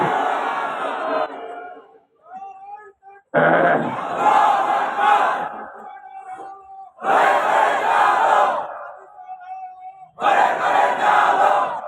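A large religious gathering roars a takbir chant in three loud, sustained bursts, each crowd shout swelling and holding for a couple of seconds, separated by short pauses where a single voice calls out.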